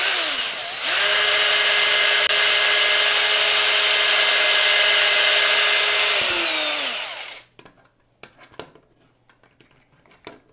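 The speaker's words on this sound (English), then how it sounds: "I'm going to bust the drill out again to make the hole a little bit bigger" A power drill enlarging a hole in Sony MDR-V6 headphones whirs up loudly, holds a steady high-pitched spin for several seconds, then winds down, followed by a few scattered clicks and taps.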